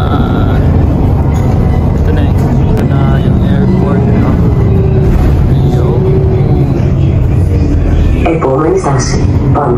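A bus rumbling along the road to Corfu airport, a loud continuous engine and road drone lasting throughout, with a voice talking over it.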